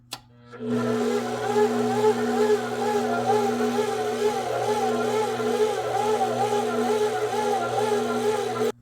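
A stand mixer runs in first gear, kneading cinnamon bun dough. After a brief start, it holds a steady, close, droning motor hum with a gently wavering pitch throughout.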